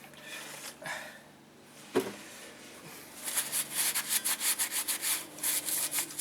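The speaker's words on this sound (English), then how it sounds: "clean up the knuckle, using a little bit of solvent" A rag wiped with solvent scrubs grease off the steering knuckle of a 2006 Dodge Dakota during a front wheel bearing job, quiet rubbing that turns into a fast, rhythmic series of scrubbing strokes, close up with no talking.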